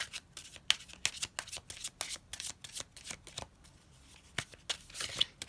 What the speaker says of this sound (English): feel free to fast forward through the shuffling if you like